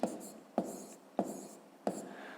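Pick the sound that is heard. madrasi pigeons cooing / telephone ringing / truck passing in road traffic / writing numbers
writing numbers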